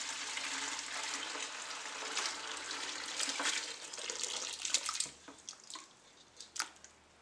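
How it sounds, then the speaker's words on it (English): Brine is poured into a bucket for a holiday turkey, a faint steady rush of liquid that thins to scattered splashes and drips at the end. "We are using a bucket as our vessel to carry our turkey, and we're going to add our brine to it."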